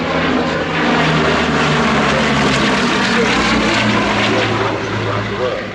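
A Bristol Blenheim propeller aircraft flies past at a vintage airshow, its steady loud piston-engine drone and propeller hum filling the whole stretch, with a voice speaking underneath.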